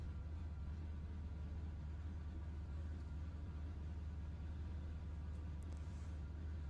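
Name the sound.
race car engine being parked in Le Mans Ultimate video game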